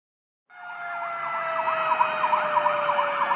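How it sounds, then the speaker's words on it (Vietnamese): A fire truck siren wails loud and steady, rising in and then warbling in a rapid oscillating pattern, heard alone without any talk. "Xe cứu hỏa."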